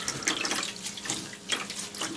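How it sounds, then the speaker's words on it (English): Sushi rice rinsed under a running kitchen tap, steady splashing water hitting grains and a bowl with surges and swishes as the rice is stirred, close and fairly loud, no voices. "rinse it at least 3 or 4 times until it is until the water is clear."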